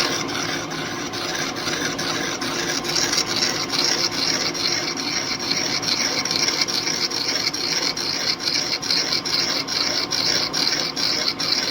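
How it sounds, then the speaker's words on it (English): A drill bit reams a bronze arbor bushing for a Clausing 8540, a loud, steady grinding rasp with a fast rhythmic chatter that runs unbroken and close the whole time. "I'm kind of using the drill bit as a ream, but I didn't check it to see what size it actually drilled bronze at."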